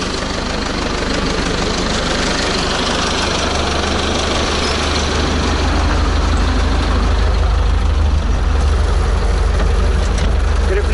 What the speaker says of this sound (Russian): Трактор греется, обороты повышаются.